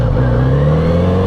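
Kawasaki Z900RS Cafe motorcycle engine at a 2023 demo day, a loud steady close engine drone with a slowly rising pitch, heard alone.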